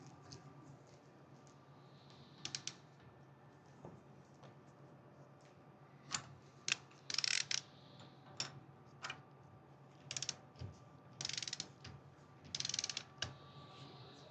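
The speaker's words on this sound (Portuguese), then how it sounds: "Tem que girar ela aqui utilizando o torquímetro." A torque wrench ratchets in short bursts of quick clicks while tightening the nut on a Bosch CRIN 4.2 Euro 6 common-rail injector, close and fairly faint, with pauses and light metallic ticks between strokes.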